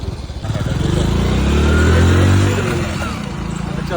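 A motorcycle engine starts and settles into a steady, close idle with a low throbbing rumble that swells slightly before easing off, running continuously to the end.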